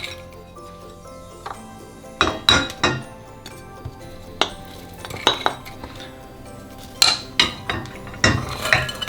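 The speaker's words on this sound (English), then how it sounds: "Just take a glass bowl or a plastic bowl and just add all this mixed fruit in the bowl." Mixed dried fruit tipped into a glass bowl produces scattered clinks and knocks in irregular bursts, close and fairly loud, separated by quieter pauses in a kitchen.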